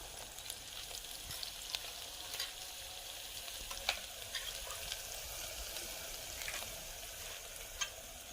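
Garlic frying in a pan after onions, a soft continuous sizzle with scattered small crackles and light stirring taps, close but quiet and without talk.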